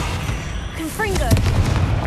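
A Confringo blast spell fires and explodes in the Hogwarts Legacy video game: a short rising magical whoosh, then a heavy, rumbling boom that lingers close and loud, with a voice calling out over the start.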